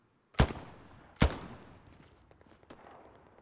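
Gunfire from the WWII shooter game Hell Let Loose: two sharp, loud shots about a second apart, then faint scattered distant pops and a low rumble.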